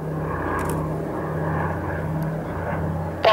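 Loud, continuous drone of a PBY-5A Catalina flying boat's engines heard from inside the aircraft in flight, a steady throbbing roar with deep tonal hum and heavy vibration throughout.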